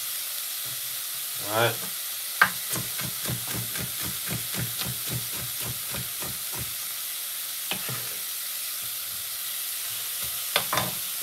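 Red and yellow peppers and other vegetables sweat in a pot for Jamaican-style brown stew salmon in a restaurant, a steady hiss broken by a run of rhythmic stirring scrapes, with a brief spoken word.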